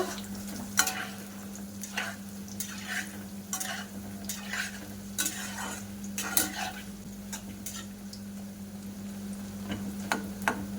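Small chana dal laddu balls fry in a pan, a low steady sizzle broken by repeated clinks and scrapes of a spoon turning them, over a faint constant hum.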